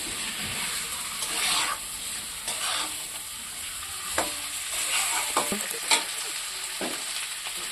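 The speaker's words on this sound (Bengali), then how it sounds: "মাংসটা অনেকটা টাইম ধরে কষিয়ে নেবো" Poultry meat seasoned with turmeric and salt fries in a pan, giving a steady sizzle with repeated stirring scrapes and clatters, close up.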